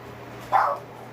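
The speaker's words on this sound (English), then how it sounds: "including that loudmouth dog, who is actually my little baby girl" A small pet dog gives a single short, sharp bark indoors, moderately close, over a quiet household hum.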